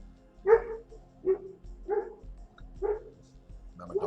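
A dog barks indoors in a series of five or six short, moderately loud barks spaced about a second apart, with quiet pauses between them.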